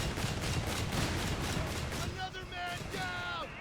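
Artillery barrage from half-tracks in a Company of Heroes 3 match, a dense continuous roar of rapid explosions and gunfire at steady loudness, with whistling incoming shells near the end.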